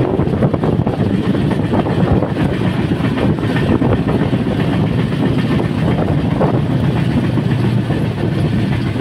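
Padatik Express easing its speed on the line, a continuous loud rumble of wheels on rails mixed with rushing wind noise, steady and unbroken from inside the carriage.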